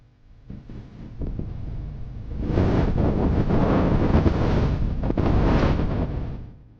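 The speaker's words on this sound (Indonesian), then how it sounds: "Tapi slot awan ketokane angin ambek ombak mulai teko rek." Wind gusts and breaking sea waves roar at sea off Madura, a steady loud rush that builds after the first few seconds and stays broad and continuous before easing at the end.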